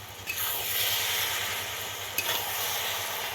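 Potatoes and cabbage for a puja bhog dish hiss and sizzle steadily in a pan once the lid comes off, close and continuous, with a couple of faint clinks and no talk.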